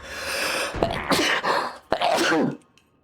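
A loud, close sneeze in the middle of a game session, with gasping, moaning breaths around it, then it trails off.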